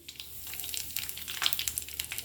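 Mustard seeds, fenugreek, hing and red chillies frying in hot oil, a quick flurry of close crackles and pops over a soft sizzle, lasting only a couple of seconds with no voices.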